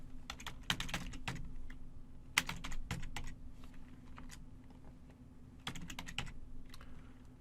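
Quick bursts of typing on a computer keyboard, clusters of crisp key clicks separated by short pauses, close but fairly quiet over a low steady hum, with nobody speaking.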